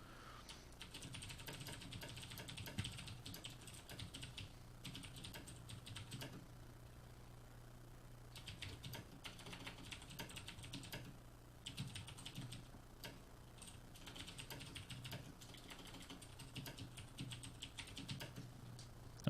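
Fingers type on a computer keyboard in quick, uneven bursts of close key clicks, with short pauses between runs and a low steady hum underneath; no one speaks.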